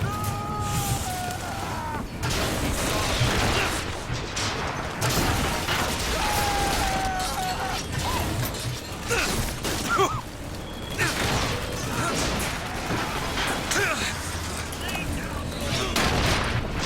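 Rocket attacks and gunfire in the video game Bioshock Infinite, with bursts of shots, booms and mechanical clatter in a dense, ongoing fight, while a player's voice breaks in now and then over the combat.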